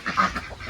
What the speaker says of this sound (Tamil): இதெல்லாமே நம்மளோட ஒயிட் பெக்கிங் வாத்து